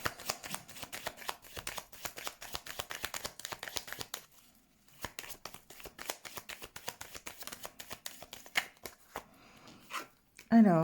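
Tarot cards shuffled by hand close up, a long run of rapid papery riffles and soft slaps, then a brief pause before more quick shuffling, with a voice speaking quietly underneath.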